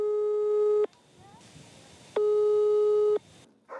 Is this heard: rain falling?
no